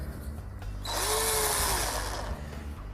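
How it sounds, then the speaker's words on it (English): A power drill bores through soft wood, a sharp whirring burst of a second or so, close and loud, with the motor pitch sagging as the bit bites in. "because the wood being soft you can feel the drill coming towards it"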